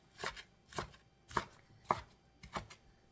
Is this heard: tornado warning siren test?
no